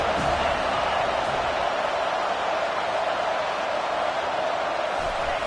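A football stadium crowd roars steadily for the defense on a big third down, a broad continuous wash of cheering with no breaks.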